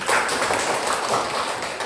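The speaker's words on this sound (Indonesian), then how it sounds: "Tepuk tangan untuk Al." A classroom of students applauds a classmate, a steady burst of many hands clapping together close by for about two seconds, with no talking over it.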